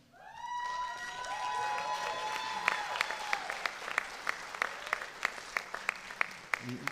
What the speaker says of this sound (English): You can tell that's the Dryden crowd right there, because they always have the loudest cheers